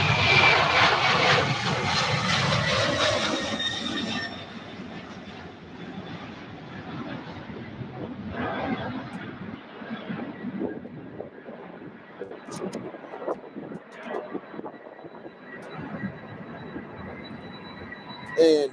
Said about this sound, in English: And here we go, Boeing 767.